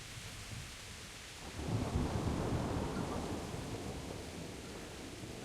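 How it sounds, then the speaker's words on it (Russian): Thunder rolls in from a storm in the video game Kingdom Come: Deliverance, a low rumbling swell that rises suddenly and sustains as a broad, loud roar with rain-like hiss, no voices. "О, молния бахнула"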